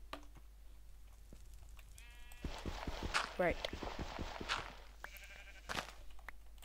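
Blocky video game sheep bleat several times in quick succession. Footstep-like clip-clop steps and soft clicks accompany them, and a player briefly speaks over the scene.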